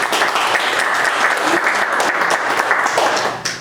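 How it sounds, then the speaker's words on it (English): Applause from a meeting audience in Brooklyn greets a state senator taking the stage as guest speaker, a dense, steady clapping that fills the whole stretch at close range before tapering slightly at the end. "please give a round of applause for our guest speaker for today, State Senator Steve Chan"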